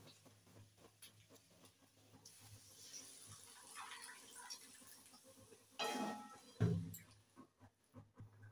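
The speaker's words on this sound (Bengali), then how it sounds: "এবার জল ঢেলে দেব।" Water poured into a pot of simmering potato and pea ghugni curry with coconut, a short splashing gush rising over quiet kitchen background near the end.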